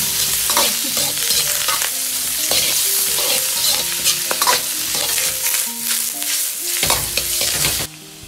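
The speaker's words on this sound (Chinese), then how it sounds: "加入控干水分的木耳，快速翻炒几下，翻炒均匀" Drained wood ear mushrooms stir-fried in a wok after carrots and garlic, ginger and scallion, giving a busy sizzle with rapid spatula scrapes and clinks, close and continuous, no talk.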